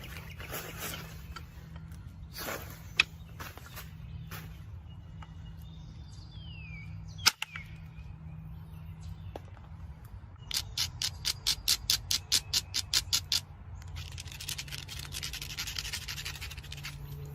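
Flint being knapped outdoors, with soft scraping as the edge is ground followed by a quick rapid series of sharp clicking strikes from indirect percussion; birds call faintly in the background.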